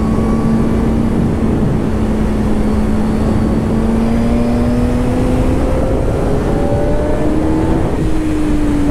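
A Suzuki GSX-R 750 K1 motorcycle engine drones continuously while being ridden on twisty roads, with a steady mid-pitched tone that climbs slowly, heavy wind roar throughout, and faint shifting engine notes from another bike near the end.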